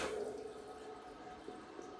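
Water slowly turned on and filling a toilet bowl during a bidet installation, a faint continuous hiss and trickle with soft dripping, steady and quiet throughout.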